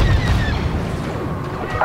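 Bomber attack run in Star Wars Battlefront 2, heard as a continuous heavy, rumbling barrage of booms and crashing impacts that fills the whole stretch, with no distinct breaks between blasts.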